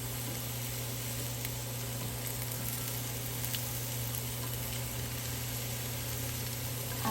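Cauliflower and paprika sizzle steadily in a pan, a constant close frying hiss with a low hum beneath it and no voices, running unbroken from start to finish.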